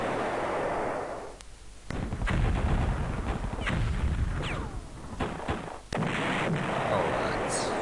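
In the Panzer General war game, heavy artillery fire and gunfire come as a run of loud booming blasts with a short quiet gap between volleys, followed by ongoing rumbling battle noise.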